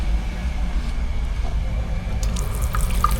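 Water runs steadily from a tap in a home in Germany during winter, a continuous close rushing stream with a few faint drips and clinks near the end.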